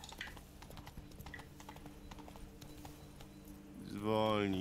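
Hooves of a horse in The Witcher 3: Blood and Wine clip-clopping in a steady, fairly quiet patter under someone talking, ending in a loud drawn-out whinny-like swell.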